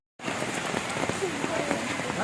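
Monsoon rain falls in Bhavnath, Junagadh, starting abruptly and then hissing steadily on surfaces nearby, with scattered drops pattering through the constant wash.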